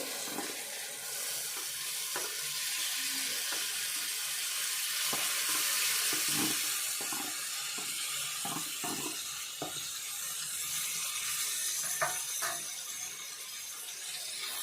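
Washed, finely chopped tomatoes go into a hot pan for a tomato and egg curry. A broad, steady hiss rises and holds like rushing water, with scattered light clicks and taps over it and no talking.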